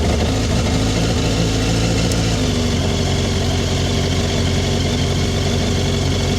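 Suzuki GSXR1000 motorcycle idling after a cold start outdoors: a steady, moderately loud engine hum with a slightly higher fast idle easing down partway through, heard alone without talk.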